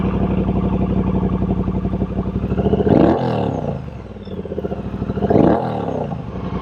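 A Triumph Bonneville Bobber motorcycle setting off, its engine loud and close with a steady rumbling idle before revving up twice with rising gear-change sweeps as it pulls away.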